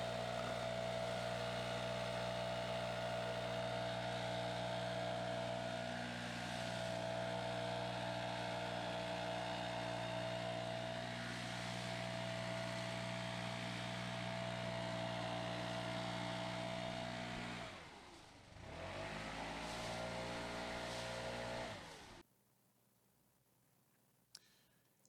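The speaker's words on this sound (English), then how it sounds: "that backpack blower is moving all the leaves" A STIHL BR700 backpack leaf blower roars at close range with a steady, harmonic engine drone while clearing leaves. The engine dips in pitch briefly, revs back up, then cuts off, leaving near silence.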